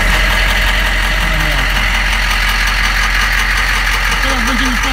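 A 1999 Humvee's large engine idles steadily with a low, constant rumble and a rough, knocking throb throughout.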